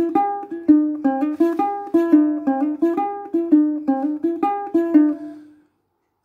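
Ukulele picking a melody from a song, single plucked notes in a steady lively rhythm, clear and close, played alone before ringing out into silence.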